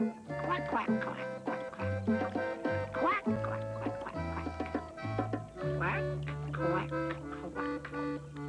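A storyteller's voice imitates a duck swimming away down a stream, with a series of repeated nasal quacks over soft background music.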